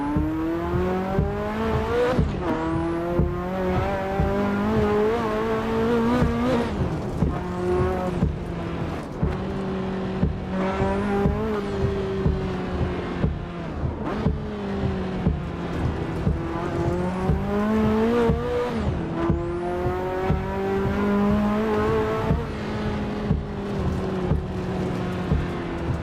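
A high-revving Ferrari F40 engine in a video game screams through repeated gear shifts, pitch climbing and dropping in steady cycles, loud and continuous with no talking.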